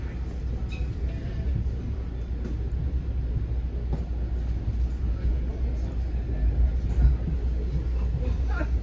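Steady low rumble of train wheels on rail, heard from the lower level of an NJ Transit double-decker railcar, with a continuous close roar and faint clicks throughout.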